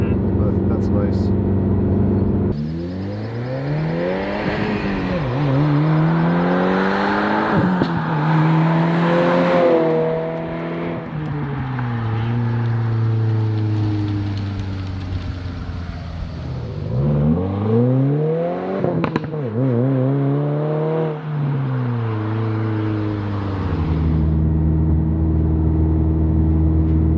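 A 2022 Subaru WRX fitted with an ETS catback exhaust revs up and down several times, its deep engine note climbing and falling in repeated loud sweeps, with a steady idle between pulls.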